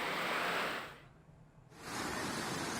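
Strong rushing monsoon flood water roars in a dense, steady wash that dips briefly quieter before surging back loud, with no voices over it.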